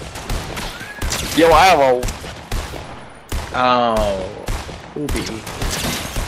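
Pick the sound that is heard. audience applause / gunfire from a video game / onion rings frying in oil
gunfire from a video game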